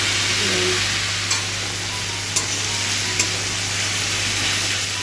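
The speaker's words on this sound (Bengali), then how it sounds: "দেখো আমার মশলাটা কষানো হয়ে গেছে এবার তেল ছাড়ছে" Spice masala for chicken kosha fries in oil, a steady close sizzle and hiss with a few sharp scraping taps of a spoon against the pan.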